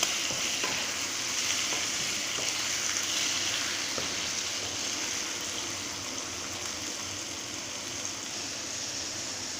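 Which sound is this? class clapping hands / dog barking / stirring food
stirring food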